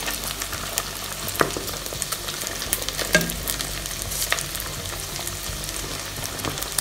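Chicken skin frying in its own rendered fat crackles and sizzles continuously up close, dotted with sharp pops and spatters throughout; no voices.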